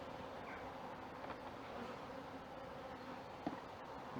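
Dense, steady buzzing of honeybees shaken from a brood frame during a sugar shake Varroa test, a continuous near drone with one brief knock partway through.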